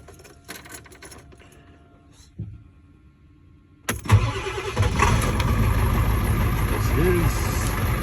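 A Ford 7.3 Power Stroke diesel truck engine cold-starts in Alaska after a few quiet clicks, catching abruptly and settling into a loud, steady, rattling idle.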